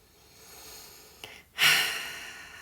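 A pregnant woman in a third-trimester prenatal yoga hip stretch takes a deep breath: a faint intake, then one loud, airy exhale that fades slowly, close to the microphone with no talking.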